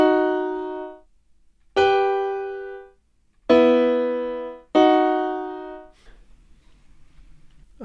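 Two notes of a musical interval are played together for ear training, struck four times with short gaps. Each dyad rings out clearly and then fades.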